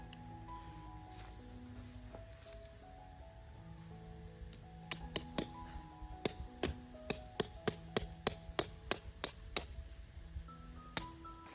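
Sharp metallic hammer strikes ring out in a steady series, starting sparse and then coming faster, as tent stakes for a DOD Kamaboko Tent 3 are driven into the ground, over a quiet background with soft tonal sounds.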